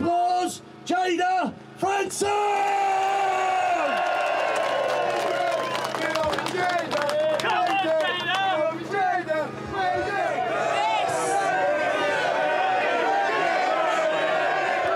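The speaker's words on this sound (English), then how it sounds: "Big round of applause" Crowd at a Britain First political rally claps and cheers for an incoming speaker, with loud whoops and shouts over sustained applause. Voices call out amid the noise, and a few isolated claps lead into a dense, continuous roar.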